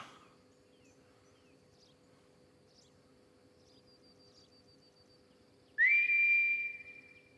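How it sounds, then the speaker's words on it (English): A loud, sharp whistle in the video game Final Fantasy VII: Ever Crisis rings out near the end, rising then holding a steady high pitch, after a stretch of quiet ambience with faint chirps. "You all heard the whistle."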